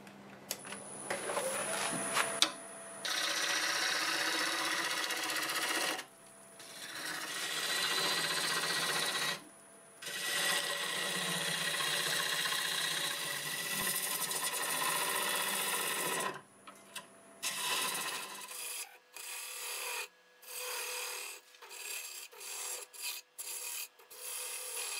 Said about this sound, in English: Switch to my 5/8 bowl gouge.